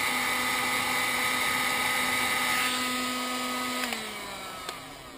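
A heat gun blows a steady whine and rush of air while shrinking a solder seal butt connector, close and loud, and its pitch dips as it winds down near the end.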